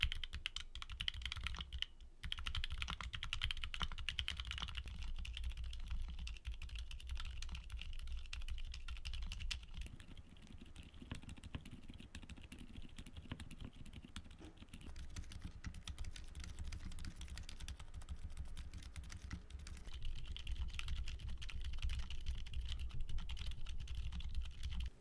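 Several sets of silent linear mechanical keyboard switches are typed on one after another, each a steady stream of damped, muffled keystrokes heard up close with no voices.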